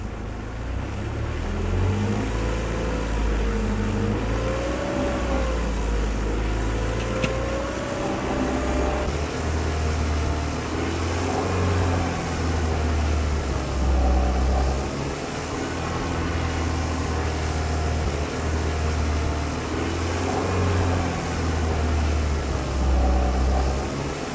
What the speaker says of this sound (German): Ich lasse den Motor jetzt 5 Minuten laufen, dabei kann man auch die Drehzahl leicht erhöhen.